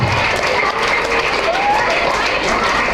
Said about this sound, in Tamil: அவர் அவருக்கு கை தட்டுறோம்